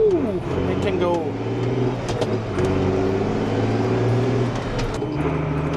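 A restored Fendt 512C tractor drives along, its engine a loud, close, steady drone with rising and falling tones as it pulls away and changes pace.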